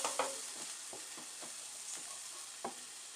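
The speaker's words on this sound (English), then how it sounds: "Move that garlic around a little bit. Might have to put a little bit more oil." Garlic frying in oil in a pan while being stirred: scraping strokes of a utensil recur over a steady, close sizzle, with no voices.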